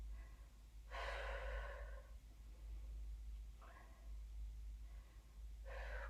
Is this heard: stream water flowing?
no